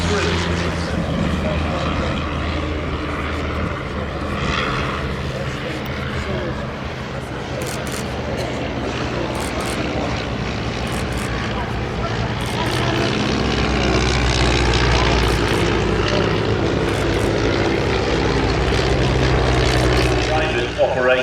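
A vintage propeller aircraft at an airshow makes a continuous loud engine drone throughout, with a voice talking over it.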